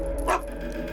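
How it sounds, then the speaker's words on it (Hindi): A dog gives a single short bark in the middle, clear over a steady low room hum, indoors. "भौंक क्यों रहे हो?"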